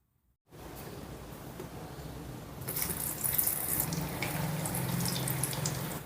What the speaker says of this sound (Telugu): ఇప్పుడు ఆయిల్ బాగా వేడిగా ఉంది ఇప్పుడు చకోడీలు వేసుకుందాం